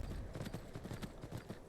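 Rhythmic clip-clop of horse hooves galloping in a buggy open-world video game, steady and fairly close with a continuous low rumble underneath.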